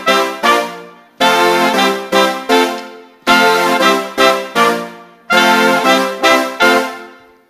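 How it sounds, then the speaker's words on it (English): Live band with a guitar synth playing together, loud full-band chords in three repeated phrases of a sustained hit followed by short stabs, no talking over it. "And you've got a guitar synth happening."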